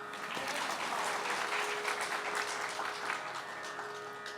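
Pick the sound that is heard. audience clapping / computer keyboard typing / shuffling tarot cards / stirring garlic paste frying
audience clapping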